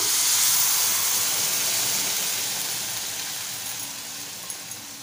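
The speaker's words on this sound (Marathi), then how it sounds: "आपण बॉईल करून ठेवलेला मसूर टाकून घेऊया।" Boiled whole masoor lentils dropped into hot oil with fried spices give a loud, steady sizzling hiss that starts strong and gradually fades over five seconds, with a couple of small pops near the end.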